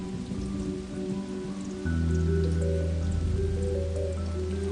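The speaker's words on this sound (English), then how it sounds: "Absorbing the gentle drizzles from dawn to dusk." Gentle drizzle of rain makes a soft, steady hiss throughout, mixed with sustained musical tones that swell partway through.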